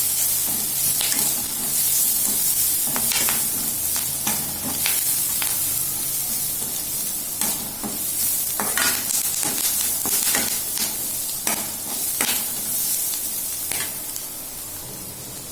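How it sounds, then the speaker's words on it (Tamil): Onions sauté in a pan with Kashmiri chili powder, giving a steady sizzle and hiss broken by repeated scraping stirs, close and continuous with no talk. "இப்போ வெங்காயம் நல்லா வதங்கிருச்சுங்க"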